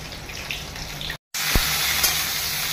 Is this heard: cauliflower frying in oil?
yes